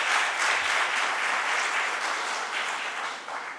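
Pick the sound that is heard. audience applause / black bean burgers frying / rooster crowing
audience applause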